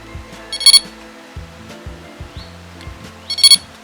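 Prologic RMX Fulcrum carp bite alarm giving two short high electronic beep bursts a few seconds apart, loud and close, with low knocks and handling noises in between.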